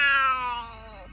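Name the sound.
big ferocious cat meowing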